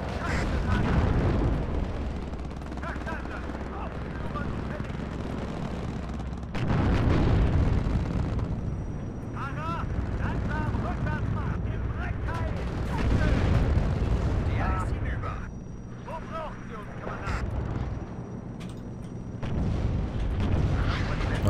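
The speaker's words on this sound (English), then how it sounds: "Hit there by the artillery. Very nice hit." Artillery shells hit tanks in a war video game with Leopard tanks and Russian forces, heavy booming explosions and rumbling impacts recurring across the stretch amid battle noise, with someone talking over it.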